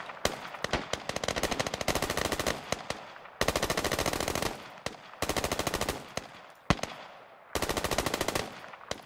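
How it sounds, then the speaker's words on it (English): Bursts of automatic gunfire in the military shooter Squad, several long rapid volleys separated by short pauses, loud and close with sharp single shots in between. "There's someone shooting on the road."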